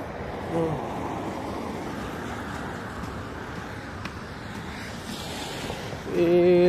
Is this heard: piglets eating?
no